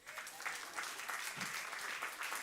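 Faint, steady applause from a church congregation during a Sunday celebration, a continuous wash of many hands clapping at a distance.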